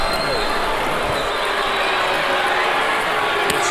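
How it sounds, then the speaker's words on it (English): A boxing arena crowd at the close of a Floyd Mayweather fight against Robert Guerrero roars in a sustained, loud wall of cheering, broad and continuous with faint claps mixed in. "The crowd comes to its feet, and they cheer as one."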